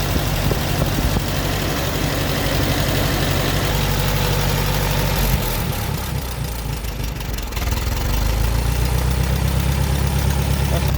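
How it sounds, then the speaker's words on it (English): An old tractor engine idles steadily, a loud low rumbling throb with constant rhythm and vibration, briefly dipping in the middle before resuming. "she's been idling for about 20 minutes"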